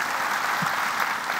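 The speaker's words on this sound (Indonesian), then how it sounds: "kita kasih tepuk tangan sekali lagi" A studio audience at a televised talk show claps loudly and continuously, a dense even wash of many hands with no pauses throughout.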